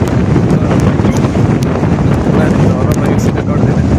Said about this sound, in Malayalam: നല്ല മഴയുണ്ട്, നല്ല കാറ്റുണ്ട്